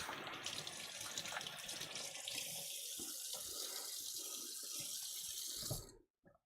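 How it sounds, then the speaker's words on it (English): Tap water runs steadily into a sink while hands are rinsed under it, a broad continuous splashing that stops abruptly near the end, followed by a few drips. "Again, wash your hands. Keep them just a little bit damp."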